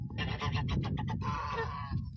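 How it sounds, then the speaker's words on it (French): A cluster of geese honks loudly and close by, rapid overlapping calls in quick bursts that run together into a continuous racket. "Les oies réclamant."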